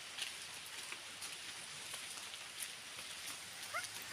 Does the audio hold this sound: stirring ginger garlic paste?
no